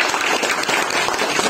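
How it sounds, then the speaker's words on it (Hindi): Dense, loud applause from a large audience at an RCM business meeting, a continuous wash of many hands clapping at once through the whole short burst. "एक बार जोरदार ताली बजाएं।"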